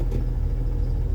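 A 2000 Jeep Wrangler TJ engine idles with the clutch pressed, a steady close low rumble carrying a faint whir that may come from a worn throwout bearing, with no talk over it.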